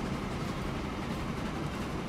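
A freight train rolls along a line in the simulation game Transport Fever, giving a steady, low, dense rumble with faint rhythmic clatter that holds even throughout, with no voices.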